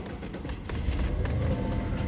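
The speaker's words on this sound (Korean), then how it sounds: "어제 밤에까지 돌리고 오늘 다시 시동을 걸어 봅니다" A BMW 750Li with a misfiring engine under restoration turns over and catches, a low rumbling idle building up through the brief span with uneven pulses, close by and without talk.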